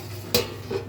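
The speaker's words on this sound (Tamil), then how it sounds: "தட்டு போட்டு மூடிடலாம்" A plate is set down as a lid on a cooking pan of tomato onion curry, one sharp close clink followed by a softer faint rattle, over a low steady background hum.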